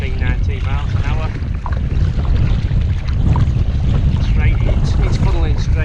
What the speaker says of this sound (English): It's just too windy. We're blowing about 18-19 miles an hour.